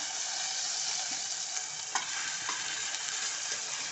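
Onion and coconut paste stir-fried in a pan for stuffed tondli (ivy gourd), giving a steady close sizzle with a few sharp spatula scrapes and clinks throughout, no talking.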